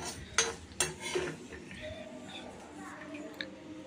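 Gongura chicken curry is moved from a large kadai into a small one: two sharp metal clanks of spoon on pan, then softer scraping and stirring under a quiet voice.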